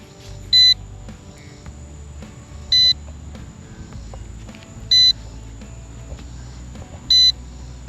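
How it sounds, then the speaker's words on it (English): A Ruko U11 mini drone remote controller beeps while connecting, four short high electronic beeps spaced about two seconds apart over a low steady background hum. "Remote is now turned on, and it's connecting to my app. Hear the beeps?"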